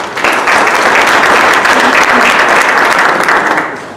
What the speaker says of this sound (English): Please join me in giving them a big applause for their continued support and commitment.